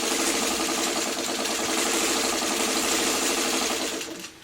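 A sewing machine stitches quilt block handle pieces in a fast, even mechanical chatter, close and steady, slowing and trailing off at the end.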